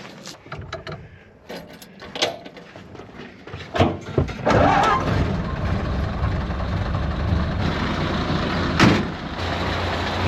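A Ford Model A engine being started, a few mechanical clunks and cranking bursts, then catching and settling into a loud, steady close idle for the rest.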